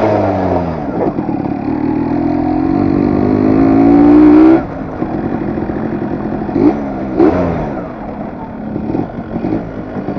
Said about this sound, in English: today I am riding the legendary RX 100.